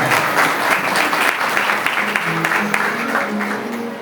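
An audience at a spiritual discourse claps loudly and steadily in a dense, sustained burst of applause that fills the space, with a faint voice briefly heard underneath.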